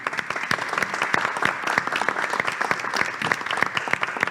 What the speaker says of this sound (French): j'ai entendu quelques applaudissements